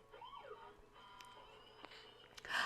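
A voice mimics a wailing siren with rising and falling pitch sweeps, fairly quiet, followed by a brief louder burst of noise at the end.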